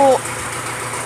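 An Isuzu pickup truck's engine idles nearby with a steady low rumble, after a brief snatch of voice at the start.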